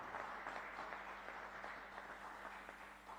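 Audience applause at a live concert on Sardinian television, a steady wash of clapping that sounds fairly faint and distant and lasts a few seconds.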